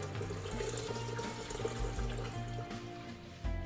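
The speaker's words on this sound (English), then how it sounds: "You need to slow it down, it's splashing up something chronic." Store-bought grape juice is poured into a brewing vessel for red wine, splashing steadily in a continuous close, rushing gush of liquid that swells briefly near the end.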